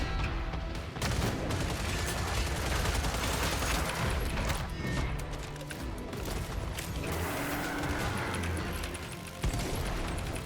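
Weapon reloading in the video game Killing Floor 3 during a Hell on Earth survival match: dense mechanical clicks and ratcheting mixed into continuous loud gunfire and combat noise, steady throughout with no talk.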